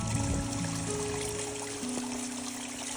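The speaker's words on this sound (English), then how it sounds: "The trail is basically a waterfall." Water pouring and trickling down a steep, muddy hiking trail in the Adirondacks, a steady close wash with a few faint tonal hums mixed in.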